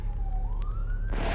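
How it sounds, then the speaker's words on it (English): A fire truck siren wails from a distance, its pitch slowly rising over a low engine rumble, then louder road noise swells at the end. "That's a fire truck,"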